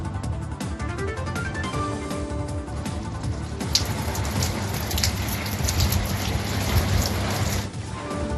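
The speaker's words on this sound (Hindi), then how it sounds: "कश्मीर के मैदानी इलाकों में हो रही है बारिश" Rain falling across the plains of Kashmir, a steady dense hiss of drops on surfaces that thickens midway and carries on without pause.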